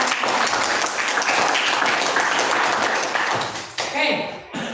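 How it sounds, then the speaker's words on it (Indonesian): Classroom applause from students, a burst of many hands clapping together for around four seconds before thinning out, with a voice breaking in near the end. "Kita beri tepuk tangan."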